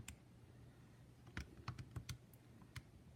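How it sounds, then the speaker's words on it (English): Calculator keys pressed to enter a math problem, a short run of about eight light plastic clicks in an uneven rhythm, faint and close over a low steady hum, with no talking. "I'm going to go ahead and start putting this in the calculator"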